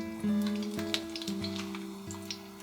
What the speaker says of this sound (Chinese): 这烤肠煎的时候太香了